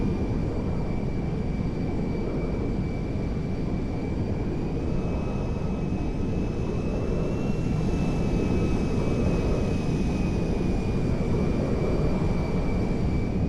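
In GTA 5, a DC-10-30F jet airliner's engines roar steadily on approach over water, a loud, continuous rumble with a whining tone on top, holding level for the whole stretch with no talk.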